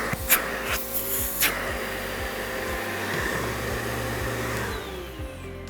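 A Riccar Spirit vacuum cleaner runs steadily during a hose suction test, a continuous loud whining motor roar with a few brief clicks and bumps near the start.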